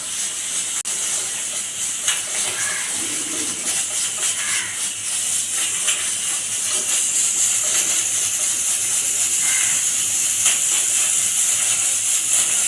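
A pressure cooker full of vegetable pulao lets off steam, producing a continuous high-pitched whistle with a hissing rush. The sound carries on throughout and grows louder and fuller in the second half, with no talking over it.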